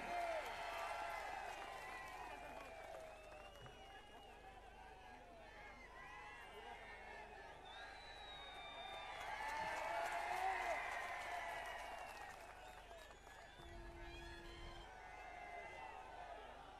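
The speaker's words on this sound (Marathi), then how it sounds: "उमेदवार आले, जरा टाळ्या वाजून त्याचं स्वागत करा." A crowd at a political campaign rally applauds to welcome a Lok Sabha candidate, sustained clapping swelling and easing over many seconds amid crowd murmur, with voices and a public-address hum underneath.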